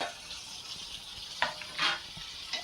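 Chopped tomatoes go into potatoes frying in a pan, giving a gentle continuous sizzle with a few brief bursts of stirring and spattering, close by with no talk.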